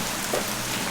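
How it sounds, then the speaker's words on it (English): Rain pours steadily outside an abandoned stone house under renovation, making a dense, even hiss with no distinct drops or voices. "it wasn't meant to rain this morning"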